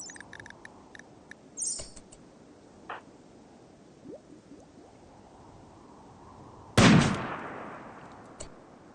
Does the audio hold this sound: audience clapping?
no